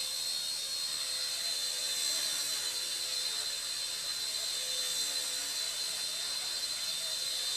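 A Hisky HCP60 RC helicopter in regular flight gives off a steady, continuous high-pitched whine with a constant drone, holding at an even loudness throughout with no talking.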